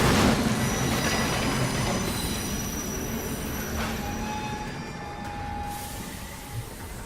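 A locomotive train in the Assassin's Creed Unity video game rolls along with a loud, continuous rumble and high squealing wheels, steady and close throughout, no voices.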